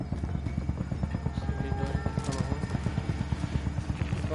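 Helicopter in the Call of Duty Warzone video game thumps with rapid, evenly spaced rotor beats, loud and close throughout, with no talking.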